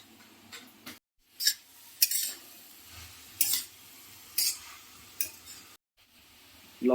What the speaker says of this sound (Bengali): লাউ তো এবার দিয়ে দেওয়া হচ্ছে লবণ